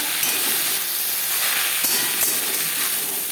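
Jute leaves fry in a small amount of refined oil, giving a steady, close hiss and sizzle with a few brief crackles and no speech.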